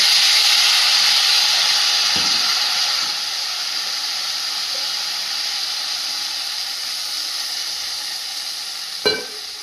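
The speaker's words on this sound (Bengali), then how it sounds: "ঝোলটা ফুটে গেছে" Curry broth bubbles in a covered pan on the stove, a steady loud hiss of steam and simmering that holds throughout, with a couple of faint knocks and no talking.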